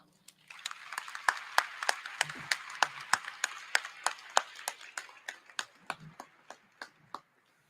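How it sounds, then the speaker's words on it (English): Sparse, distinct hand claps in a steady rhythm, fairly faint, like a small scattered round of applause that tapers off, at a university commencement ceremony. "Let's give them a round of applause."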